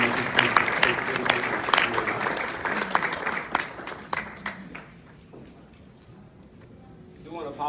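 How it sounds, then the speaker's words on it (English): An audience at a Romulus Chamber of Commerce Person of the Year banquet breaks into dense, steady applause. The clapping holds for about four seconds, then thins and fades into a quiet room murmur, with a short rustle near the end. "Let's give him a round of applause as he comes"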